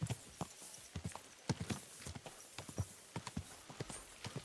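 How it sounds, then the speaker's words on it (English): Horse hooves clip-clop at a steady walking rhythm on a hard surface in the medieval video game Kingdom Come: Deliverance II, close and fairly quiet, with a faint snort among the footfalls. "Easy, good horse."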